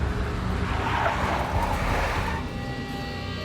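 A big black Mercedes drives in the Max Payne video game, engine rumbling with a brief tire-squeal swell in the middle before settling into a steady drone, close and prominent with no speech.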